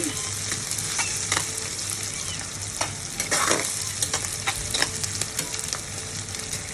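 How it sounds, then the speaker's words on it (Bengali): Onion frying in hot oil with ground garlic, cumin, crushed whole garam masala, turmeric, salt and chili powder, a steady close sizzle with intermittent stirring scrapes and clinks throughout, no voices. "প্রথমে আমি পেঁয়াজটা তেলে দিয়ে নিয়েছি"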